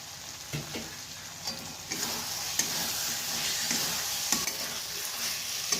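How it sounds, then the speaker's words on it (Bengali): Malabar spinach stems fry in a pan with a soft, continuous sizzle, broken by occasional scraping strokes as a spoon stirs them. "এবার আমি দিয়ে দিচ্ছি পুঁইশাক ডাঁটা ভাজাটা।"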